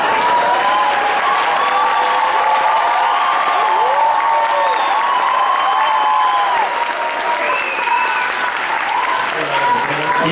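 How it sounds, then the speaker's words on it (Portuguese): Sustained applause from a live concert audience on an MPB stage, dense and loud throughout, with crowd noise and some voices mixed in. "Aplaudam calorosamente, por favor"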